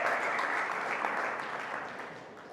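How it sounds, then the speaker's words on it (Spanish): A congregation applauds during a live service at CCE Badajoz. The crowd clapping is somewhat distant and fairly soft, and it stays steady for a couple of seconds before easing slightly. "Eso merece un aplauso, hombre."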